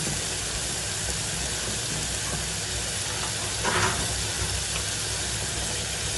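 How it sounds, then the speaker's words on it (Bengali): Spice masala frying and being stirred in a pan, producing a dense, steady hiss of sizzling oil throughout, fairly loud and close, with a brief brighter burst midway and no talking. "আমি মশলাটাকে ভালোভাবে কষাই নেবো"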